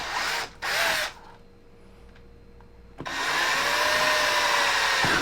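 A power drill boring into a cheap rifle, with two short whining bursts, a pause of near silence, then a long sustained loud drilling run.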